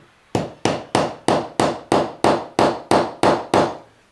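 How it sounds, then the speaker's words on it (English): Eleven sharp metallic hammer taps seating a fret into a guitar neck, in an even, steady rhythm, each ringing briefly before the next, close and fairly loud. "I'm going to get a proper hammer. It's hammer time. Going to put him on and tap him in."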